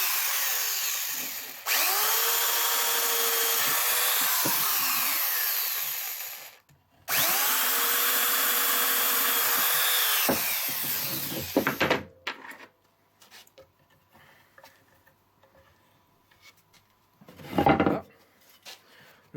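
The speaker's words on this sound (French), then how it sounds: "On va faire rapidement deux trous," Two holes drilled into a wooden beehive floor, each a loud, steady high-pitched power-drill whine lasting several seconds with a short pause between, followed by quieter clatter and handling of wood and tools.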